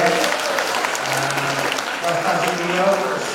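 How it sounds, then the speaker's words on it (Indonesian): Warm applause from an audience for the mayor at an anniversary reception, a loud steady patter of many hands, with a voice speaking over the clapping. "kita berikan tepuk tangan yang hangat beliau ya"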